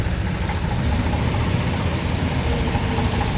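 A tractor engine idles and runs steadily at a worksite while the tractor is being unloaded, a loud, even low rumble with no pauses and no voices.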